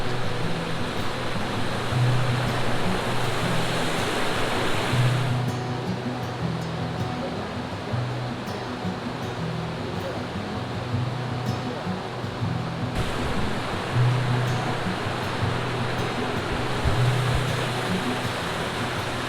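Snap Falls on Muddy Creek pours in a steady, broadband roar of rushing water that fills the whole scene, loud and continuous, with a few faint low thumps and a brief shift in tone partway through.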